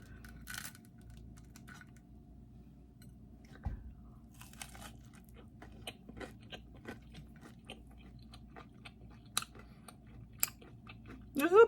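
Close, crisp crunches from biting and chewing a toasted gluten-free breakfast bun, scattered irregularly over a quiet background with a few sharper bites, and no talking.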